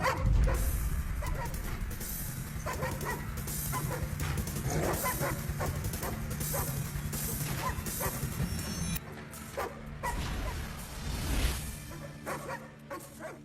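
A dog barks repeatedly amid a dense, noisy scene, yips and bow-wows scattered over steady background clatter and hum, with no clear talking.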